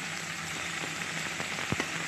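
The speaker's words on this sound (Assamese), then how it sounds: "আলু কেইপিচ অলপ ভাজি লোৱাৰ পাছত চজিনাখিনি ইয়াতে দিছোঁ।" Drumsticks slid into a pan of frying potatoes set off a steady oil sizzle with a few soft clatters near the end, close and moderately loud, with no one speaking.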